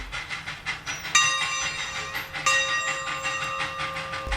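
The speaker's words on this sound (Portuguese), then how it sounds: "ouvi o grito do trem ao longe, depois mais perto" A train rumbles past with a hissing, clattering rail noise, and a steady whistle tone sounds over it for a few seconds.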